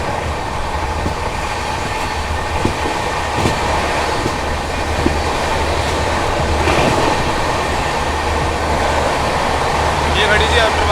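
The New Delhi–Barauni Clone Special passenger train rolls along while overtaking the Amrapali Express, a loud, steady rumble with low wheel drone and faint clicking of rail joints throughout.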